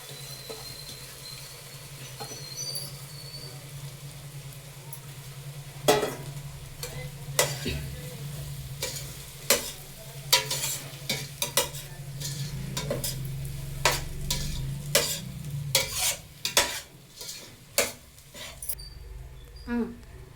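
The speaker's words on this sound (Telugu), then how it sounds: "ఇప్పుడు పొడి పొడిగా చేసుకున్న అన్నం వేసుకొని కలుపుకుందాం." Cooked rice stirred into a tomato mixture in a pan, with a low frying sizzle underneath and a series of sharp spoon scrapes and clacks that grow more frequent partway through.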